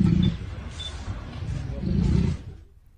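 A tigress roars at a cornered leopard in the wild: deep, loud, rumbling roars in repeated swells up close, fading away at the end.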